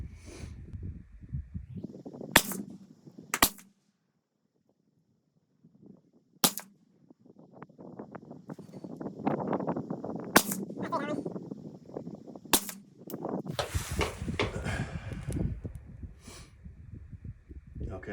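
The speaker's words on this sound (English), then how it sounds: "5 shots picked up, 5 shots fired." Sharp rifle shots from a short-barreled rifle ring out at a target, five loud cracks spaced a few seconds apart, with people talking and shuffling at the range in between.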